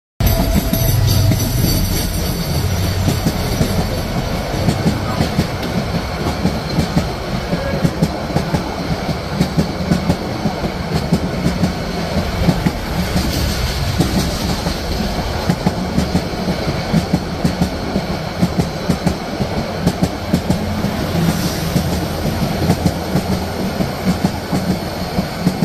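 A Bangladeshi intercity passenger train crosses the Cox's Bazar Express on the Dhaka to Cox's Bazar line, a loud sustained rumble with rhythmic clickety-clack of wheels over rail joints and occasional squeal, heard from on board.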